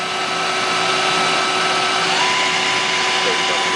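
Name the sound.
Citizen L32VII CNC Swiss lathe main spindle running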